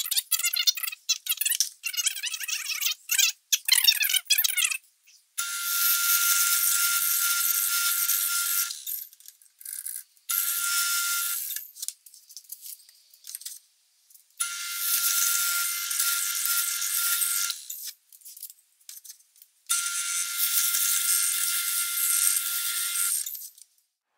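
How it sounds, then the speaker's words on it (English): Holes are drilled into wood for a step-up base, with a drill whining in several long bursts separated by short pauses, loud and close, after some brief rattling handling noises. "Got my holes drilled."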